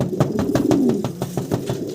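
Jet-black velvet shield fancy pigeons cooing up close, a loud rhythmic run of low throaty coos pulsing steadily, with soft rustling underneath.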